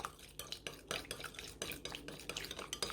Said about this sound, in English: so give that a quick stir